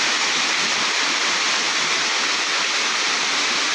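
Dense, steady roar of rushing water, like a heavy downpour or water pouring, constant and loud throughout with no pauses.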